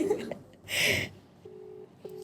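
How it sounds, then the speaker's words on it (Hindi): A phone dials with a few quick, faint tones and a short burst of static, then a steady, moderately loud ringback tone sounds twice. Brief speech can be heard at the start. "फोन बज रहा है"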